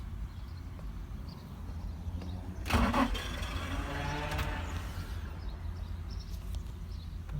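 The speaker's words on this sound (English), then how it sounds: "It cranks, but then it just like makes this weird noise." A Nissan 350Z's starter cranks without catching, giving a loud churning burst around the third second that trails off into an odd, irregular engine noise over steady low background rumble; no one speaks.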